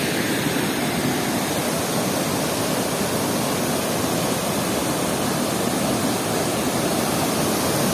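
Antong Falls pours down in a dense, continuous roar of rushing water, broad and steady throughout with no voices heard.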